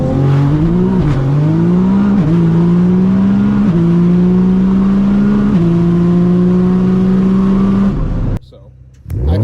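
A 2021-24 Gen3 Ford F-150 Raptor with an AWE catback exhaust in sport mode runs close and loud, its engine note stepping up through several rising revs and holds before cutting off abruptly, with a voice briefly over it.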